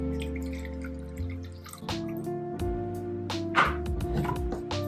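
Distilled water pours into a small batch of homemade body wash, a trickling, dripping liquid sound with uneven splashes and rising gurgles, close and moderately quiet, with no talking.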